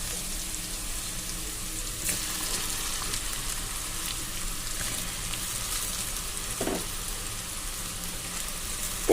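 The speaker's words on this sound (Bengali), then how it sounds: "এবারে চাউমিনগুলোকে দিচ্ছি।" Chow mein noodles with ginger frying in a pan for a vegetarian dish, a steady close hiss and sizzle throughout with a faint clatter now and then.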